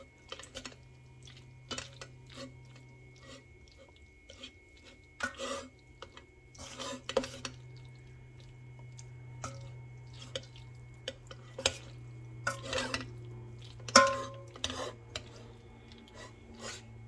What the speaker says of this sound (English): Now just swish it around. That way it can melt.